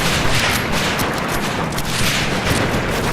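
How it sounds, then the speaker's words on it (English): Dense, continuous gunfire and explosions pour onto a trench in a war video game, a steady loud barrage of overlapping shots and booms with no gaps. "these guys are starting to get a bit of heavy fire on them"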